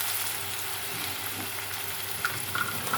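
Beans frying in a pan with oil after chicken, giving a steady, moderately loud sizzle throughout with a few brief crackling pops near the end and no talking.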